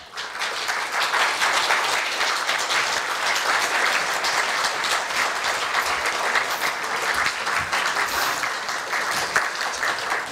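Steady, full applause from the audience at a Korea University staff retirement ceremony during a group photo, sustained and even for about ten seconds.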